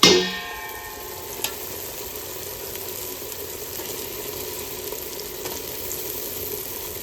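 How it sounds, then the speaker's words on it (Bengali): Chicken leg pieces dropped into a pan of cooked spice masala with Kashmiri chilli powder, a brief clatter then a steady sizzling fry with a single clink partway through, close and continuous. "এবার আমি চিকেনগুলো দিয়ে দেবো"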